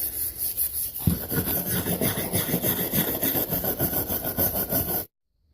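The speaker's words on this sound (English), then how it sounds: "I had to put it in the vise to grind it with the wire brush" A wire brush grinds rust off a metal tool clamped in a vise, giving a steady, loud, rasping scrub with a fast rhythmic churn that runs for about four seconds and then stops abruptly, with no talking.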